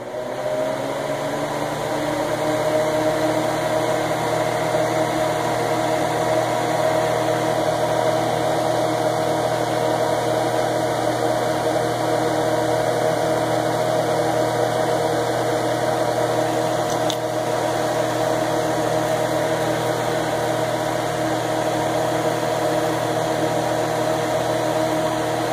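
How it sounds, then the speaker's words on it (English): An exhaust fan runs through a workspace used for wooden-box burn tests with a 2.5 W blue laser, giving a steady, even whir with a constant low hum that holds unchanged throughout, with no talking. "I'm actually going to turn my exhaust fan on."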